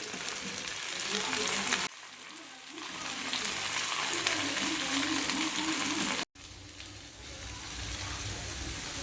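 Fresh river fish coated in masala fries in a little oil, a dense, steady hiss and crackle that drops briefly, resumes, cuts out for a moment and returns, heard close with no clear speech.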